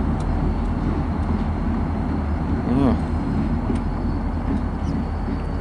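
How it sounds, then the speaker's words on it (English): A freight train hauled by SD40 locomotives passing at a distance, a steady low rumble and rolling noise throughout, with a brief higher tone near the middle and a short word spoken. "And we got another train down there."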